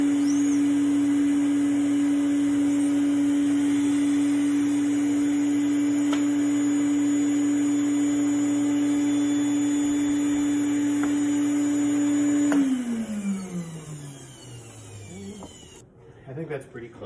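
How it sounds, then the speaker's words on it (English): A screen-printing vacuum table hums loudly and steadily with a constant electric drone, then is switched off and winds down with a falling pitch, leaving quieter room noise and faint handling sounds. "let's turn the vacuum on"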